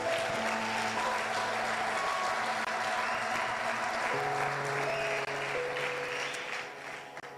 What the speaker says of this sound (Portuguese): eu quero que você aplauda Jesus aí